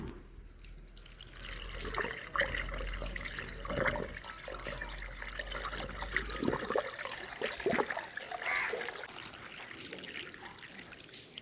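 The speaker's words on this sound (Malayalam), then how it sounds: "നമ്മൾ വെള്ളം ഒഴിച്ച് കൊടുക്കുകയാണ്" Water is poured steadily into a pipe while refilling a motor pump after a new foot valve is fitted, giving a continuous close splashing and trickling flow with scattered drips.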